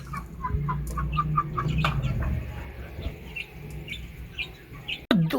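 Young Aseel chicks at about four months old cluck and chirp while pecking at mixed feed grain, a busy cluster of close, loud calls with scattered sharp peeps and a sudden knock near the end.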